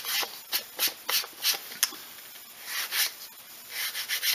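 Fine-grit sandpaper rubs back and forth along the edge of a handmade leather wallet, a quiet rhythm of short raspy strokes, a dozen or so in quick succession, close up with no talk.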